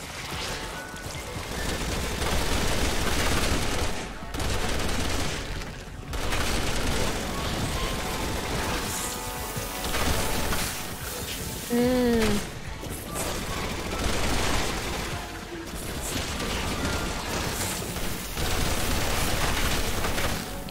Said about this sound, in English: Just shooting zombies.